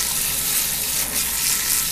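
Dried beans being rinsed under a running kitchen tap, a steady close hiss of flowing water spattering over them in a colander, continuous and even with no voices.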